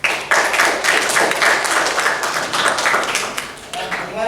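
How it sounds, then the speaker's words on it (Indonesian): A group of listeners in a classroom claps for a presenting group, with distinct uneven hand claps in a loose rhythm that is close and moderately loud, along with some voices and small taps mixed in. "Jadi kita berikan tepuk tangan"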